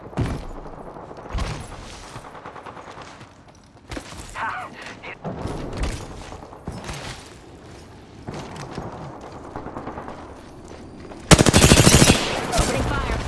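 Automatic gunfire from the video game Apex Legends crackles in repeated bursts amid game sounds, ending in a loud, dense sustained burst of fire.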